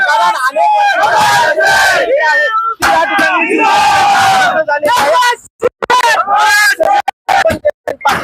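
Shiv Sainik supporters at a celebration in Mangaon-Mahad, Raigad, cheer and shout loudly and close, a sustained roaring crowd with rising yells that breaks into scattered bursts near the end.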